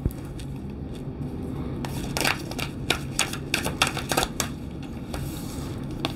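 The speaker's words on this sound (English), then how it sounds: "I did shuffle these. I'm gonna just do it one more time." Cards are riffled and shuffled close by, with bursts of quick crisp flutters and taps between quieter handling sounds.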